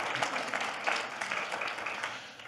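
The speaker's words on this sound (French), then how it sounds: "On peut applaudir Dominique pour cet excellent travail qu'il a fait." A church congregation applauds after a French-language sermon segment, a soft, steady wash of many hands clapping at a distance with no voices over it.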